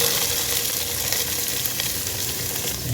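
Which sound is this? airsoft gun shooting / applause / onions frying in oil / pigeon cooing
onions frying in oil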